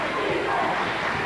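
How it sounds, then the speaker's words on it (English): A high school basketball crowd in a gym, Johnstown versus Gloversville in 1992-1993, with Gloversville fans yelling for defense as a loud, dense wash of massed voices filling the whole clip. "the Gloversville crowd yelling for defense here as they want their team back in this game"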